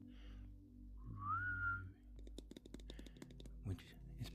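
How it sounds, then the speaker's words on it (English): A person whistles a short, soft, rising-then-level tune close to a microphone, followed by quiet clicks and tapping during a soft-spoken ASMR livestream. "I've been whistling a lot."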